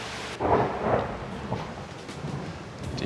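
Rain and thunder sound from inside a bathroom with a clear roof, a low thunder roll swelling then fading under a steady hiss of rain drumming on the panels overhead.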